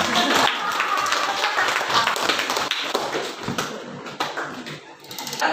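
Classroom of students clapping for a classmate's explanation during a math lesson on circles, a dense burst of handclaps that thins and trails off, with some chatter mixed in.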